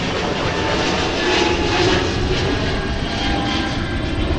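An American airliner jet takes off from Minneapolis–St. Paul airport, producing a loud, sustained engine roar with a broad rushing hiss that swells slightly in the middle and continues throughout, with no voices.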